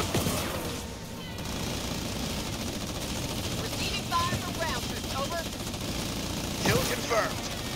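Archer missiles firing in a military video game, a dense rattle of gunfire and explosive bursts over a continuous engine-like rumble, with players talking over the action.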